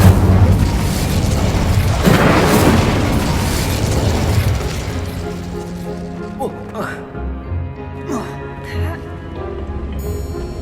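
Explosive blasts from the Bombarda spell in Hogwarts Legacy burst loud and close, a heavy rumbling boom that decays into scattered crackles and debris pops, with a spoken spell call mixed in.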